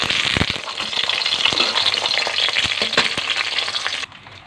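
Seasoned beef tapa fries in a pan with loud continuous sizzling and occasional stirring scrapes, close up, until the sizzle drops away abruptly near the end.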